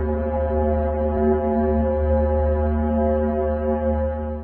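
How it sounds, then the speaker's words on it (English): Space recording presented as the sound of Venus: a steady, loud, horn-like drone with stacked humming tones, holding evenly throughout with no talking. "The sound of Venus."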